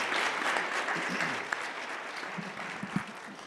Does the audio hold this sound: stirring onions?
no